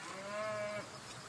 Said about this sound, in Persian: گلرخ، مرتضی جان، به عمو مسلم بگو گاوش اینجا چی کار میکنه